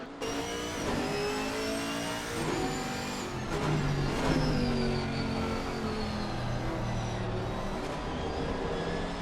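A Chevrolet GT4 race car and other GT4 cars race at the Hungaroring in a racing video game, several engines revving and shifting in overlapping, continuous loud drones with rising and falling pitch; no talking.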